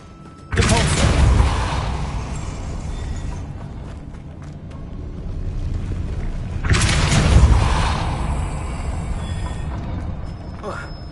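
Two heavy whooshing blasts of the Depulso force spell in Hogwarts Legacy, the first at the start and the second about six seconds later, each swelling loudly and slowly fading into a rumbling game background.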